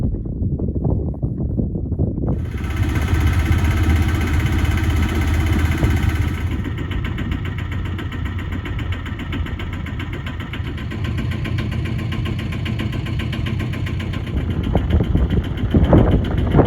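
A sailboat's engine idles close by on a tidal river, a loud, steady mechanical drone that runs throughout with a higher tonal whine joining partway and no talk.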